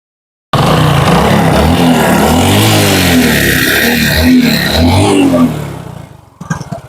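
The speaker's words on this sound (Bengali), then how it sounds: "এবার আমরা বাইকের ইঞ্জিন সাউন্ডটা আপনাদেরকে দেখানোর চেষ্টা করবো" A motorcycle engine starts up loud and close, runs steadily and rises through a few revs before fading and sputtering down near the end.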